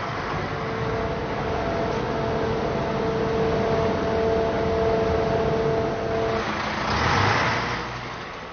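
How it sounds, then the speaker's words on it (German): Steady truck engine drone at a concrete batching plant while a mixer truck's drum is filled with ready-mixed concrete, a continuous mechanical hum with a soft noisy swell near the end. "die angeforderte Betonmenge, bereits fertig gemischt, in die Transporttrommel eines LKW eingefüllt"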